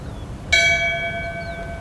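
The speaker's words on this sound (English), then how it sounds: "Would you please ring the bell in memory and in tribute of Barb Kneisenberg" A single bell struck once as a memorial tribute, a sharp metallic strike followed by a clear, sustained ringing tone that slowly decays, heard alone in a quiet room.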